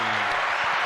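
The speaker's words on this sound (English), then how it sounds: "Give me a round of applause too as well." Brief burst of studio audience applause on a podcast set, dense and steady clapping that fills the short moment without talk.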